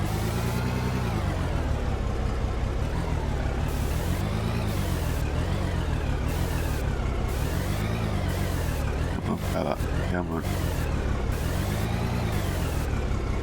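A heavy vehicle engine in the mining game Out of Ore drones steadily throughout, loud and close with a slowly wavering pitch as it moves, while someone talks over it.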